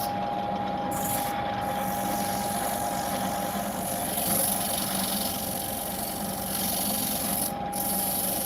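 Steady, continuous sanding on the bottom of a workpiece, a constant close rasping rub with a faint motor-like hum underneath and brief pauses in the hiss, with no talking.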